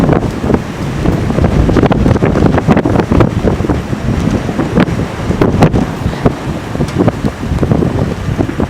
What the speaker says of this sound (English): Because of blowing and drifting snow.